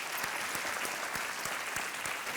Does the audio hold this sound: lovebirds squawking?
no